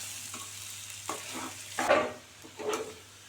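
Potatoes frying on a medium flame for a Tamil-style potato fry, with soft sizzling and a few louder stirring scrapes and bursts spaced through the short, fairly quiet stretch; no one talks.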